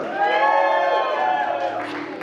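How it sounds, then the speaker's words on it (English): An audience at an annual charity dinner claps and cheers, with a bright sustained roar of crowd noise close by. "Keep clapping for Patrick, everyone."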